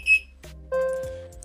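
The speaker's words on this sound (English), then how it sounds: "you'll receive this alert, welcome on board, and you'll receive some beeps" A few short electronic tones from an electric unicycle app ring out with quiet gaps between them, a high bleep first and then a longer mid-pitched beep, clear and close.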